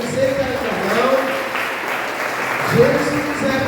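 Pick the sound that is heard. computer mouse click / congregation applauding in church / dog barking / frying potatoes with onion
congregation applauding in church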